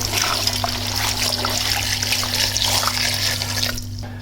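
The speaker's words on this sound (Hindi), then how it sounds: "अब हम इस पे 2 लीटर पानी शामिल करेंगे।" Two litres of water poured into a pressure cooker for a desi chicken shorba, a steady trickling pour running for about four seconds at moderate level over a low background hum.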